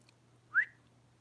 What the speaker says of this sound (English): I just heard a whistle out there